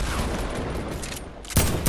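Rapid gunfire from a shooter video game, a dense rattling burst throughout with a sharper louder shot near the end.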